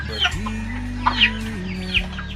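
Chickens and a rooster cluck in short bursts at close range over a steady low droning hum, with a few sharper calls scattered through.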